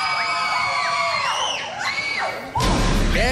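A studio audience on a Latin TV variety show erupts in sustained shouting and high-pitched screaming on cue, a loud continuous crowd roar that swells again near the end.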